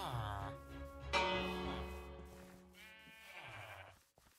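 Sheep bleat in Minecraft, a video game, in a few loud, wavering cries close by, with a bell ringing in the background.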